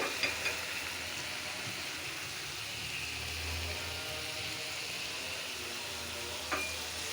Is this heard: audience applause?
no